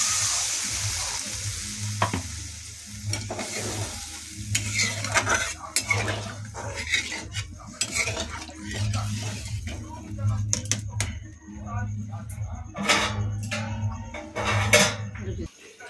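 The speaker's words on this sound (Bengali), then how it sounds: "কষানো হয়ে গেছে, এবার জল ঢেলে দিচ্ছি।" Water poured into a hot pan of Bengali mustard hilsa curry (shorshe ilish) after the spice paste has been fried, giving close sizzling and bubbling with scraping and clinking of a stirring utensil over a steady low kitchen hum.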